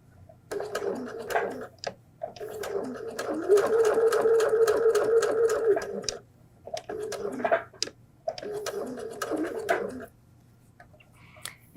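A sewing machine stitches a homemade fabric flu mask in several bursts of steady, rapid mechanical chatter, the longest running about three seconds, separated by short pauses with faint handling sounds. No one speaks.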